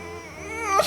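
A dog whimpers in a drawn-out, wavering whine that rises into a higher yelp at the end, close and fairly loud.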